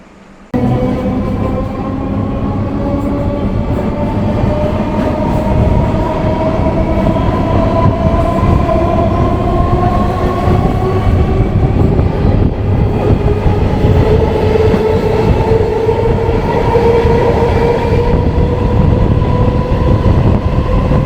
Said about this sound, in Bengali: ট্রেন ঢুকে গেছে ট্রেনে উঠি